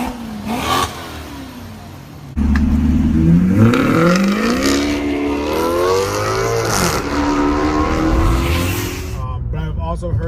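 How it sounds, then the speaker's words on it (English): A 2015 Ford Taurus SHO with its mufflers deleted revs loudly up close. The engine note rises and falls in sweeping pulls, with a turbo whine layered over the raw, unmuffled exhaust. "You can hear the turbo spooling just at idle, and it's very, very cool."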